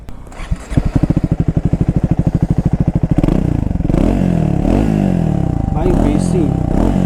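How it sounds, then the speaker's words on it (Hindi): A Triumph Speed 400 motorcycle exhaust at close range, first a rapid, even idle thump, then sharp throttle blips rising and falling in repeated revs, loud and up front with no talking. "Time for exhaust note."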